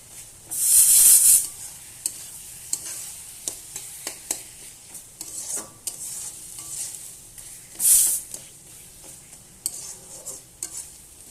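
Spices fry in hot oil in a pan for a Bengali fish-head curry, with repeated stirring scrapes and two loud bursts of sizzling, close up and without talk.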